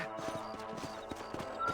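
Horse hooves clip-clopping at a steady trot in the video game Red Dead Redemption on PC, a regular rhythmic beat of hoof strikes over a soft background of game music and ambience.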